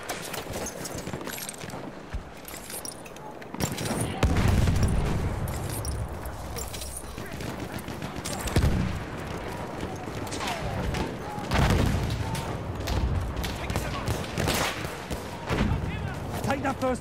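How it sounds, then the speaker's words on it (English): Enemy machine gun fire on a Battlefield 1 battlefield: sustained bursts of gunfire and crackling impacts throughout, with in-game voices and chaotic combat noise layered over it. "Enemy machine gun."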